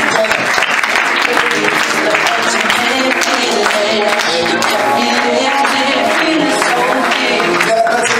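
A fashion show audience at S.Oliver in Olonne-sur-Mer applauds in a loud, dense, continuous wash of clapping from start to finish, with a few voices faintly mixed in.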